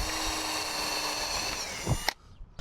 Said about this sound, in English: I just want to make sure the metal's drilled out, so these screws go in okay